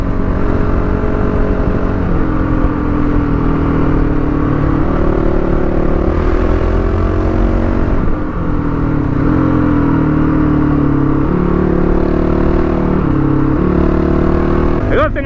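Honda CRF450L dual-sport motorcycle engine running steadily while riding, a continuous loud drone with small rises and dips in revs throughout, no pauses.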